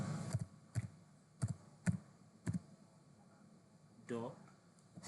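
Computer keyboard typing code: five distinct key clicks spaced about half a second apart, then a brief voice sound near the end, all fairly quiet.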